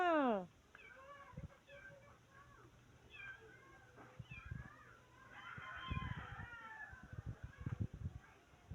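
A pet cat lets out one loud, clear meow at the start. Quieter, fainter sounds follow, and a person speaks softly in the background.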